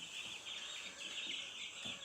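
Many young chicks raised together in a brooder peep in a steady, high-pitched chorus at close range, with faint scratching and shuffling underneath and no talking.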